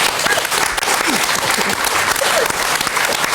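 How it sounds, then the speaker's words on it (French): Audience applause fills the room, dense and continuous clapping that stays loud and even from start to finish, with a faint murmur of voices mixed in. "À l'époque, on ne pouvait pas l'applaudir, on peut le faire aujourd'hui."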